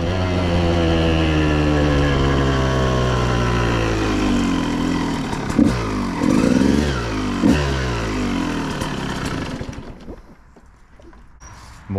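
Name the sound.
KTM supermoto motorcycle accelerating through gears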